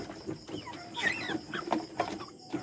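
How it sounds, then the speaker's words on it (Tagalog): Chickens cluck and chirp in short, scattered calls close by, with several overlapping notes in a quiet farmyard setting. "Ay mga chicken"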